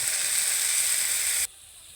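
Loud steady sizzle as water hits frying masala for a Bengali egg curry in a hot pan, a bright hissing burst that cuts off sharply near the end and falls to a quieter simmering hiss.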